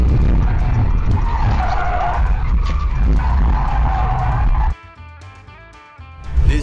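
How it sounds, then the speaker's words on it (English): A BMW car spins out on a road, its tires skidding in a loud, rough, sustained squeal for nearly five seconds before the sound cuts abruptly to quieter, unrelated sound. "as soon as he made a quick turn, the car spun out"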